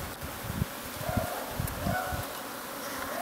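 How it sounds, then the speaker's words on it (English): Bees drinking sugar syrup give a steady, close insect buzz, with soft low thumps and rustles as they crowd over the feeder. "So you can see there are the bees drinking the syrup."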